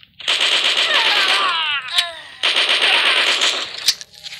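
Rapid automatic gunfire rattles loudly in a PUBG-like mobile shooter game, two long sustained bursts separated by a short pause, with a brief whine between them.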